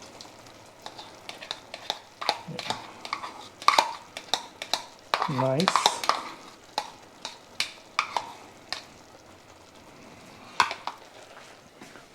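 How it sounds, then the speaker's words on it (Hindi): A spoon stirs cream into a white chicken gravy in a pan, with repeated scraping knocks against the metal and a low sizzle in a home kitchen; a voice speaks briefly. "and we'll add this cream also."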